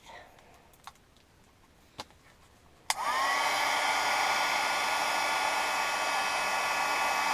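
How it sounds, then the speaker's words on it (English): A heat embossing tool blows hot air over embossing powder, starting with a click and then holding a loud, steady whirring hiss to the end, preceded by a few faint taps. "taking your heat tool, we're just going to hit that with"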